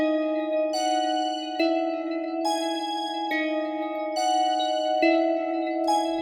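A layered synth melody built from three Citrus presets, including Dream Bell, plays alone: sustained bell-like tones with bright overtones, the notes changing in a slow pattern about every second and a half.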